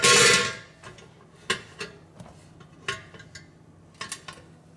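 Duncan Hines Easter Peeps cake in its baking pan being flipped over: a loud clattering rush at the start, then several sharp metallic taps and knocks spaced apart with quiet between them.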